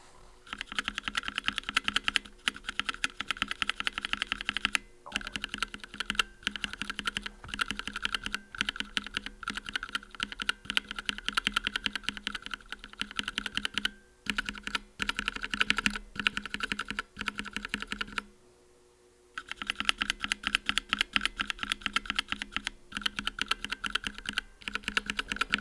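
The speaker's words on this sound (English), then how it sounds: "Now let me see how they sound at bottom out." Mechanical keyboard switches fitted with UHMWPE stems bottom out in a continuous run of fast typing. The clicks are close and crisp, with one brief pause near the end and no talking.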